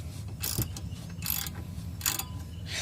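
Wrench ratcheting on a sway bar link bolt of a Mk5 Volkswagen Rabbit, Jetta or GTI, three short bursts of clicking spaced about a second apart, close and moderately loud with no talk.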